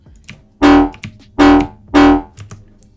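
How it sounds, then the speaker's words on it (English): A distorted Serum synthesizer patch built from sine waves, one two octaves down, plays in an electronic track's drop as three loud, buzzing stabs with short gaps and softer clicks between them. "we've got the drop, the bit that you've probably all been waiting for, so we've got this very cool sounding Serum patch"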